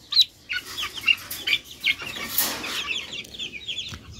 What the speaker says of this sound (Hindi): ये हमारे असील मुर्गे का चूज़ा है